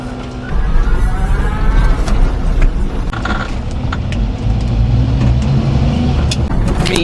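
A mini truck driving along, a loud continuous engine drone with road rumble and occasional creaks and rattles from the cab, steady throughout.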